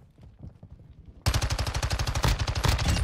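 Rapid automatic gunfire in Call of Duty Warzone (Modern Warfare 3 Shadow Siege event), loud and close, a dense rattling burst after softer quicker shots, no voices.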